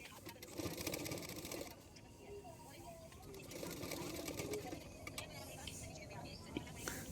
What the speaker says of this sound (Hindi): मैं पाइपिंग मतलब ये लेस को रखूँगी और किनारे किनारे पे सिलाई कर लूँगी।